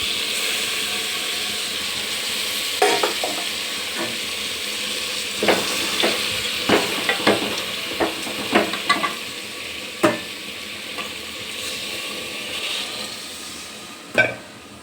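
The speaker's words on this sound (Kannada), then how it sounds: "ಚೆನ್ನಾಗಿ ಫ್ರೈ ಆಗ್ತಾಯಿದೆ" Biryani masala for chicken biryani fries in a pot under a constant sizzling hiss, while a spoon stirs it with irregular clinks and scrapes against the pot, close and fairly loud.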